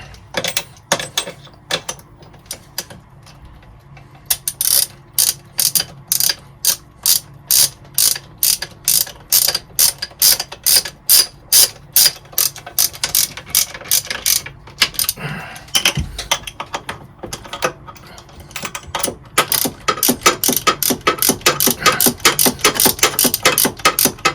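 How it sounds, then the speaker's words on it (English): A ratchet wrench retightens the shaft set screws on a boat stabilizer's coupling during sleeve replacement, giving long runs of crisp, rapid clicking strokes in steady bursts, close and alone with no talk. "Then I'll retighten the shaft set screws."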